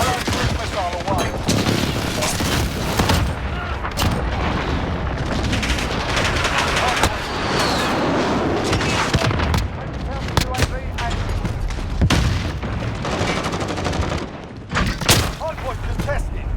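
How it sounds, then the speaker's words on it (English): A cruise missile strike lands during a Hardpoint match on the Shipment map in Modern Warfare, amid a dense, loud barrage of gunfire and booming explosions that runs throughout, with in-game voice callouts over it. "Allied cruise missile away."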